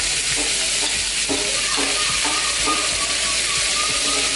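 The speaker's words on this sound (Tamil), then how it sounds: "வெங்காயம் நல்லா கோல்டன் ப்ரௌன் ஆனதுக்கு அப்புறமா நம்ம மற்ற ஐட்டம்ஸ் எல்லாம் சேர்ப்போம்." Finely chopped large onions fry in hot oil in a pan, a loud dense continuous sizzle and crackle, close up with a few soft stirring scrapes.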